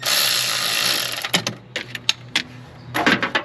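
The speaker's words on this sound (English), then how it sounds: "I'm going to lightly run them down with the ratchet" A hand ratchet runs down valve cover bolts on an LS engine, giving a few sharp clicking and clacking strokes after a hissing start, close and fairly quiet with no speech.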